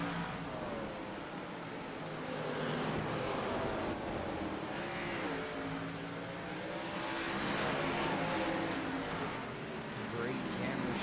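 Stock cars in a NEXTGEN Xfinity Series race stream past the start/finish line as a broad, steady engine roar with rising and falling passes, while a commentator talks over it.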